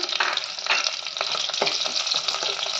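Onion, curry leaves, chillies, cloves and cardamom sizzle hard in hot oil in a pan, a bright continuous crackle broken by stirring scrapes, close and alone without talk.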